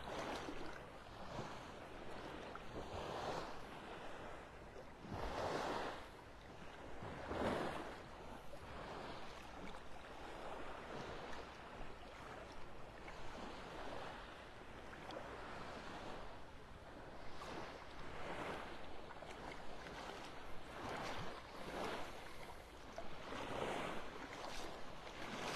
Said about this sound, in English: I'm at the beach.